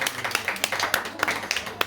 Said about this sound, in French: je vous demande d'applaudir les personnes qui nous accueillent